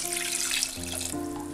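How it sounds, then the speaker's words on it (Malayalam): Water from a cup pours steadily into a cooking pot holding carrots and onions for a spicy chicken soup, a close, continuous splashing stream with a small change partway through. "ഇനി ഇതിലേക്ക് 2 കപ്പ് വെള്ളം ഒഴിക്കാം."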